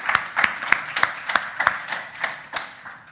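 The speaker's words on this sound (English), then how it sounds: "A round of applause for Oleg." Applause from a small audience at a Coimbra blockchain talk: about ten distinct, evenly spaced claps, close and fairly loud, standing alone without voices.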